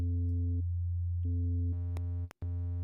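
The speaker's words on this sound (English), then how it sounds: "slightly harmonically rich sine wave" Near-pure sine tone from the Vital software synth, slightly harmonically rich, holding steady with brief gaps and a few retriggered notes, one of them briefly brighter with added overtones, then a short cutout near the end; no talking.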